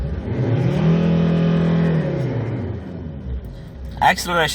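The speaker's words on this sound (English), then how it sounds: "RPMs are up. Okay, let's try accelerate." The 2004 SsangYong Musso Sports 4WD automatic diesel engine revs up smoothly with a rising, rumbling drone close by, then falls back, followed by someone speaking briefly at the end.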